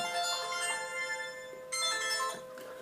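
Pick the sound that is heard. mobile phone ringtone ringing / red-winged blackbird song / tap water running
mobile phone ringtone ringing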